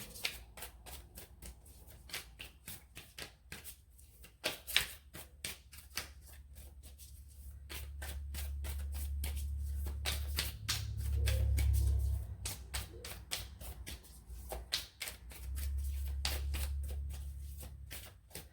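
Tarot cards being riffled and shuffled in a steady rapid flutter, close up, with low rumbling handling noise underneath and no talking.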